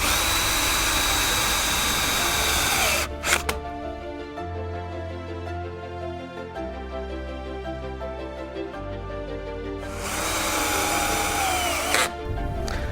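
A power tool drives two screws into a ScreenRail kick panel, whirring loudly at the start, then quieter steady humming through the middle, and a second loud burst of driving near the end, close and without talk.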